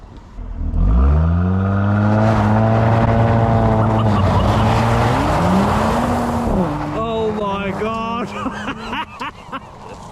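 A Mercedes C43 AMG with four-wheel drive launching hard: engine revs climb quickly in a loud rising roar, shifts pitch through gears, then a second rising rev near the end, recorded close from inside.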